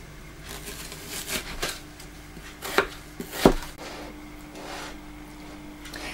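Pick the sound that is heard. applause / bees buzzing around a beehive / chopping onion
chopping onion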